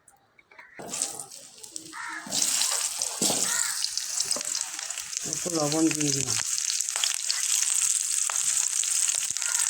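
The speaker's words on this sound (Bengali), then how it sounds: "কড়াই গরম হয়ে গেছে, আমি সাদা তেল নিয়ে আলুগুলি ভেজে নেব।" Potatoes fry in hot white oil in a kadai, with a steady, close sizzle that starts after a few seconds and continues to the end. A person talks briefly over the frying.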